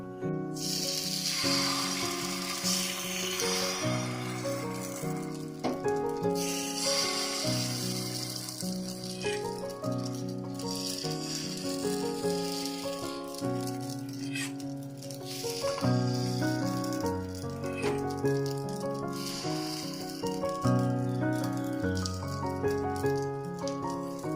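Pitha batter spread a little at a time onto a hot greased pan, giving a steady close sizzle and crackling patter that runs unbroken with no talk.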